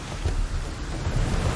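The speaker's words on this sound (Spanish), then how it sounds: "Sonido de tormenta, esto me gusta." A thunderstorm rumbles in the Viking strategy video game Ancestors Legacy, a low, steady roll of thunder with a rain-like hiss, fairly quiet and without speech.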